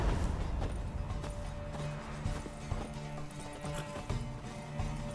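Roach, the horse in The Witcher 3, gallops with a fast, continuous drumming of hooves over a game soundtrack, with a short whinny.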